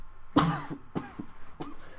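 Three harsh coughs, close and loud, with short pauses between them and no talking.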